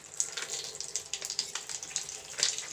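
Water runs steadily from a tap for cooking, close by with a spattering, splashing texture throughout and no talk.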